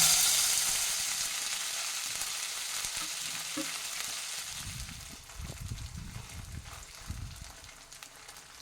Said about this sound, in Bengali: সেটাকে আমি হালকা করে এই তেলের মধ্যে দিয়ে একটু ভেজে নিচ্ছি